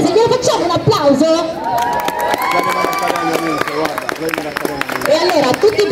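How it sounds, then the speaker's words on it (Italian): A crowd at a cosplay race at a Japanese market claps and cheers in a burst of applause, with chatter and voices mixed in throughout. "Glielo facciamo un applauso?"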